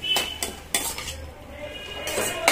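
Tomatoes sautéing in a pan for a capsicum side dish, with a few sharp clanks of a utensil against the pan over a faint sizzle, close and intermittent.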